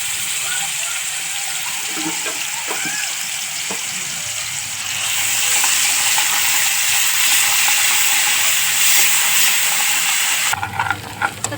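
Chicken curry masala sizzling in hot oil in a pan, a loud continuous hiss that swells midway and cuts off near the end, with some background voices.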